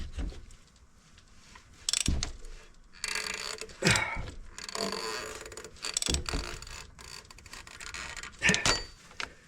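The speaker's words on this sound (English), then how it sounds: "pulling out as I rotate the crankshaft clockwise with a 20 millimeter socket" A ratchet with a 20 mm socket turns the crankshaft of a Mazda CX-5 during water pump replacement, giving bursts of clicking and metallic rattles at close range with short pauses between pulls.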